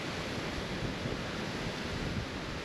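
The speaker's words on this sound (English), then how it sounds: "Beautiful little waterfall." Small waterfall on a hillside stream crossed by a footbridge in the Lake District hills, a steady broadband rush of falling water, close and continuous, with some wind buffeting the microphone and no talking.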